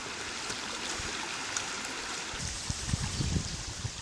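A small stream flows over stones in a gold-panning creek with a steady rushing, gurgling wash of water. A few brief splashes and knocks break through near the end, and nobody speaks.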